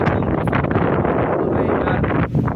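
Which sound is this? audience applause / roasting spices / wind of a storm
wind of a storm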